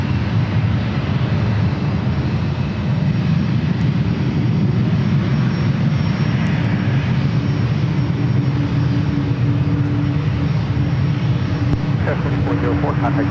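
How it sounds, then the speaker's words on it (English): Airliners land on runway 28 at San Francisco airport, heard as a continuous loud jet roar from the field with a brief rattling burst near the end, while a voice talks over it. "A couple more landings happening over on the 28s."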